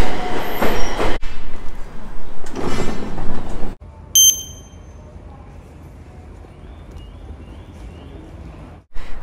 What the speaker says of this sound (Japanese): 上り列車が参ります。